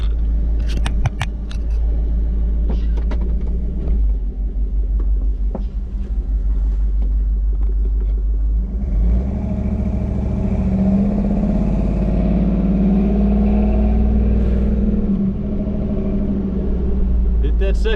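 A Chevy delivery truck with an LS engine swap drives along. A steady, loud low engine rumble and road drone continue throughout, getting fuller and busier about halfway through as it pulls away.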